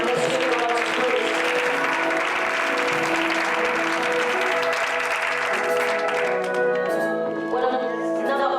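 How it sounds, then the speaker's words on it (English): A church congregation clapping along to music, the steady patter of many hands mixed with sustained instrumental tones that thin out near the end. "Somebody clap your hands right now."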